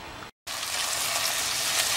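Chopped onions frying in a pan for chicken curry, a steady close hiss of sizzling oil broken by a brief silent gap near the start.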